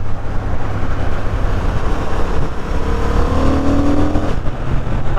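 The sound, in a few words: 2023 Honda CB750 Hornet motorcycle engine accelerating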